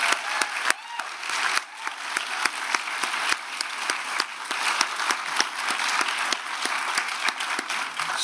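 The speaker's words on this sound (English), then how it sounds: "let us give her a round of applause" Sustained audience applause fills a ceremony for nursing graduates entering clinical practice, dense steady clapping from a large crowd lasting throughout without pause.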